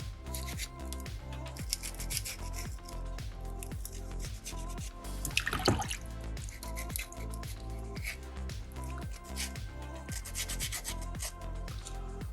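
Folded sandpaper wet-sands a small soapstone fox carving, with repeated rhythmic rubbing strokes, soft squishy scraping and occasional drips during rinsing, close and fairly quiet, with no talking.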